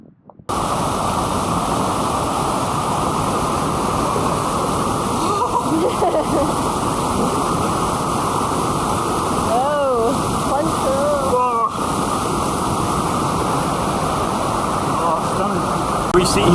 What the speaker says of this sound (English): So we're sat in a little waterfall down here